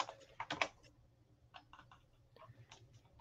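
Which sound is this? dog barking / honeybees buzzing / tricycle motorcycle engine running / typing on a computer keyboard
typing on a computer keyboard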